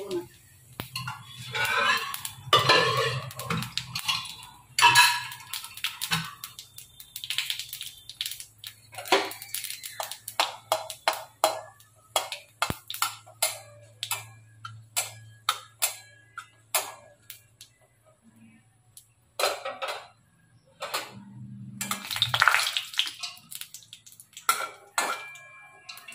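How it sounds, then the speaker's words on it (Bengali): Dry red chili and whole cumin temper in hot oil in a wok, with sharp intermittent crackles and pops, a low sizzle underneath and occasional utensil clinks, all fairly quiet, with a voice speaking early on. "ফোড়নে দেবো হচ্ছে একটা শুকনো লঙ্কা আর একটু গোটা জিরে"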